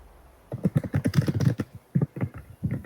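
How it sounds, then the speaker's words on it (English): A mechanical keyboard is struck hard and fast, with dense bursts of loud, sharp clicky keystrokes in rapid runs, a brief pause, then more vigorous typing, close and clear. "Who's typing so hard and aggressively on a typewriter or something? It's just a mechanical keyboard."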